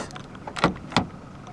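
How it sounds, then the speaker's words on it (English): Two quick mechanical thunks a moment apart as a 2018 Renault Captur's door locks engage from the front door handle button, close by and otherwise quiet. "To lock the car, press the black button on any of the front door handles."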